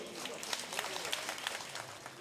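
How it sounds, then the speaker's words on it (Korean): Faint applause from a crowd, scattered claps pattering steadily for a couple of seconds, somewhat distant. "뜨거운 박수로 환영해 주십시오"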